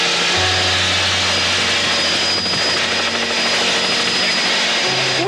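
An offshore racing powerboat roars at high throttle around 90 miles an hour, a loud, dense engine drone with shifting tones as the throttle is worked, while someone talks over it.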